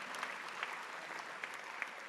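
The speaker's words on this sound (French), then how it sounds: "Alors oui, vous pouvez applaudir Laurent pour le travail qu'il a fait pour no" Steady applause from a crowd at a political party gathering, a dense even patter of clapping with a few sharper claps standing out, moderately distant.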